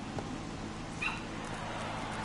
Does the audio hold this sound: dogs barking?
yes